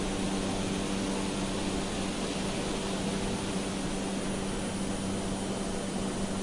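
A fixed-wing airplane climbs toward a 7,500-foot cruising altitude after takeoff from George Airport in South Africa, its loud, steady engine roar filling the cabin without a break.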